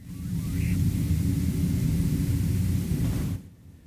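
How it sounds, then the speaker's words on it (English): Airplane taking off from Ontario Airport, heard from indoors as a steady broad rumbling roar that holds for several seconds and then cuts off abruptly. "You can hear the plane in the background."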